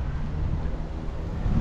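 Steady wind buffets the microphone outdoors on a mild neighborhood walk near Redondo Beach, a continuous low rumbling roar with no talk over it.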